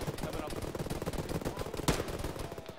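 Gunfire in a military video game, rapid steady bursts of shots at moderate distance, continuous and fairly quiet.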